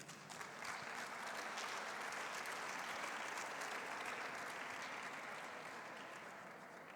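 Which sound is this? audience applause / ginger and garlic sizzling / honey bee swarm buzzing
audience applause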